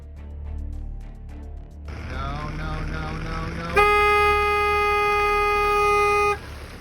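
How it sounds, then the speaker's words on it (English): Car horn blaring a long, loud, steady honk at a herd of animals on an Alaskan road, sounding close after a rising engine and road noise. "The driver managed to slow the herd down in time by honking the horn in Alaska."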